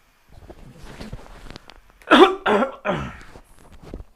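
Three harsh coughs in quick succession, close and loud, after a stretch of quiet muffled rustling.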